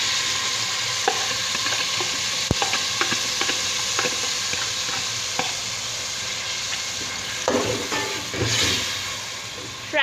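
Marinated chicken sizzles steadily in hot oil in a pan, a loud continuous frying hiss with scattered crackles and a few stirring scrapes, no talking over it.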